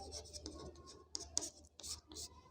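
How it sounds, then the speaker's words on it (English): Hands rubbed together to show friction, giving soft, repeated dry swishing strokes that come and go in uneven bursts, close and fairly quiet over a low steady hum, with no talking. "Rubbing hands is a major example of friction."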